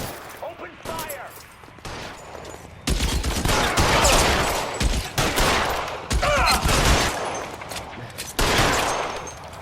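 Rapid bursts of gunfire in a shootout in the video game L.A. Noire, loud and near, with overlapping volleys continuing over several seconds and voices calling out between shots.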